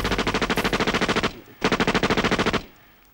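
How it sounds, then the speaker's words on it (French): Two rapid bursts of automatic gunfire in a cartoon, each a quick rhythmic string of loud shots, separated by a brief pause. "Des coups de feu!"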